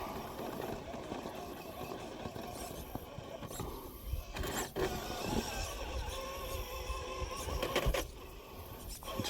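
An RC rock crawler on Razor Wire tires grinds slowly up rocks, its motor whining and gears straining unevenly, with scrapes and bumps against stone and a brief louder surge near the end.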